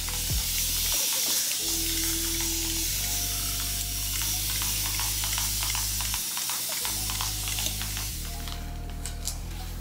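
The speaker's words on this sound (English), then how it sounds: "Take my time and spray it with water so we can get the curls popping" A spray bottle mists water onto a lace front wig in a series of short hissing bursts, close and fairly soft, with quieter handling sounds between the sprays.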